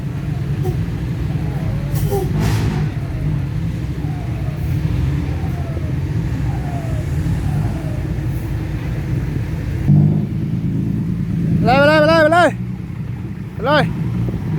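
Loaded dump trucks hauling soil rumble with a steady, heavy diesel drone that swells and revs near the end, broken by sharp tonal squeals and brief voices over the engines.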